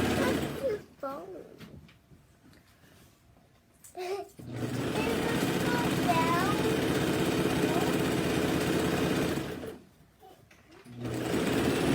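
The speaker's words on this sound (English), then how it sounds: "So now I have the whole thing serged on the top and the bottom." A serger sewing machine stitches camisole fabric in loud, steady, close whirring runs of several seconds each, with pauses between bursts and a voice talking in the background.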